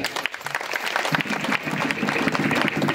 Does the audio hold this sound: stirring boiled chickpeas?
no